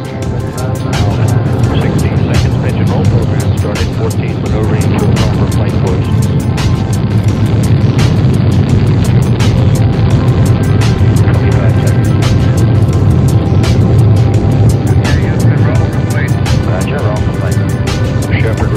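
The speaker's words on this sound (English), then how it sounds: "We have liftoff with Apollo 14." Apollo 14 rocket liftoff, a loud, steady, broadband roar that holds constant throughout, with voices speaking over it.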